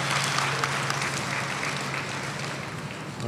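An audience at a university Black History program applauds: dense, continuous clapping from many hands, steady and fairly close, with no talking over it.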